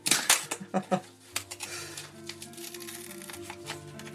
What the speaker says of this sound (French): je suis en train d'arracher l'enveloppe. D'arracher le scotch.